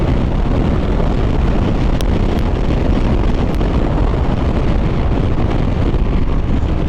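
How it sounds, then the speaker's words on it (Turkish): Loud, constant wind buffeting the microphone while riding a KYMCO DTX 360 maxi scooter at speed, a heavy low roar with no talking. "çok rüzgar alıyor"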